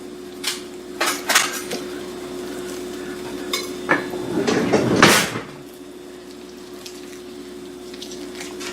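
Metal cutlery and plates clatter near a roasted brined turkey as a knife is handed over, a few sharp clinks and scrapes, then a louder clatter of dishes before the room goes quiet under a steady hum.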